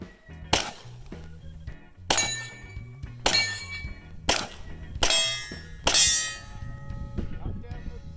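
Gunshots ring off a steel spinner target at a 3-gun match, five or six sharp metallic clangs spaced irregularly, each with a bright ringing decay and faint background noise between hits.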